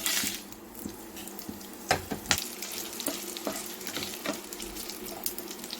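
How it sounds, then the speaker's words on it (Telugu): Dried red chillies fry in oil in a kadai, giving a soft, fairly faint sizzle under scattered clinks and scrapes of a spoon against the pan, close up with no talking. "ఈ కడాయిలో ఆయిల్ ఆయిల్ వేసామో చూడండి అలాగే ఎండు మిరపకాయలు కూడా వేసాము"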